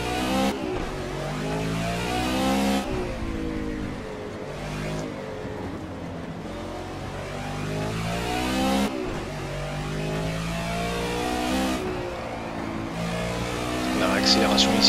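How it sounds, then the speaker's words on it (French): BMW GT touring race car in Project CARS at Silverstone accelerating hard out of a corner, engine revving up through gears with loud rising harmonic sweeps and shift breaks, continuous and close throughout. "On a l'accélération ici, la voiture qui part clairement de l'arrière. Il y a des chevaux sur cette BMW"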